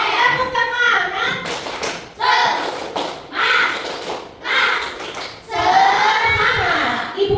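Children in a third-grade classroom perform a rhythmic clapping chant, several bursts of group clapping and chanted voices in rising, evenly spaced phrases, loud and close.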